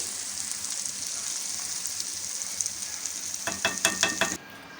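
Spices fry in hot oil in a pan as tempering for traditional Kanchipuram idli, a steady close hiss and sizzle that ends with a quick burst of metal stirring clinks against the pan.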